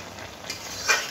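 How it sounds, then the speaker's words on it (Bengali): Jackfruit curry stirred in a pot with a ladle, a short quiet scrape and a brief rustle of the thick mixture near the end, over a faint background hiss. "আমি একটু নেড়ে চেড়ে দিয়ে ঢেকে দেবো"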